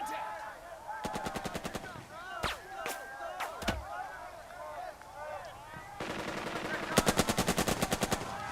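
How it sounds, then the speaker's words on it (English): Gunfire in the WWII strategy game Burden of Command during a Sicily beach battle: rapid machine-gun bursts around one second and again from six to eight seconds, with single sharp shots between them over a low battle ambience. "We're taking fire."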